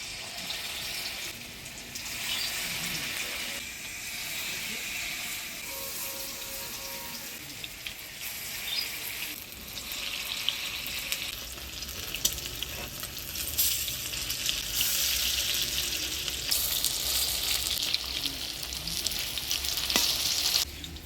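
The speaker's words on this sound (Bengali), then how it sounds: "এবার হালকা আছে বড়াগুলো ভাজি নেব" Water hyacinth flower fritters frying in hot oil in a Bengali village kitchen, a steady, loud sizzle running throughout with occasional stirring and faint watery clinks, no voices.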